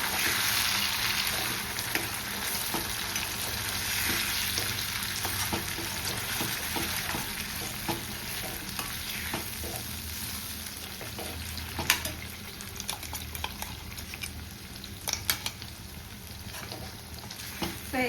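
Schezwan chutney cooks in a pan while being stirred, producing a continuous oily sizzle broken by scattered sharp scrapes and clicks of the spoon against the pan, close and steady throughout, with no talking.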